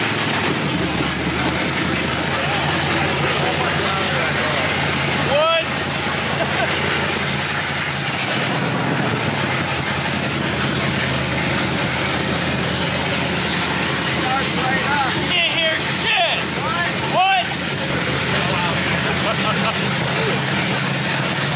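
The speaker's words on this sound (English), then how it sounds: "Just start the damn car." A Porsche 911 with a swapped LS3 V8 engine runs steadily at idle, a dense continuous rumble throughout with people talking over it.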